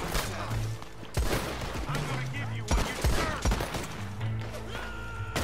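Gunfire while killing enemies at a roadblock in Red Dead Online: sharp shots and bursts crack out every second or so over game music and hoofbeat-like thuds, loud and close.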